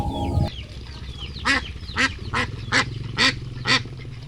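A molting duck that has stopped laying quacks in a regular series of about six loud, evenly spaced calls, nearby and alone with no speech.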